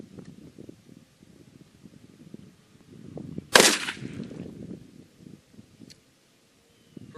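A turkey shotgun fitted with a TruTec Micro red dot sight fires a single loud, sharp blast at a target 10 yards away outdoors, after a stretch of low wind noise.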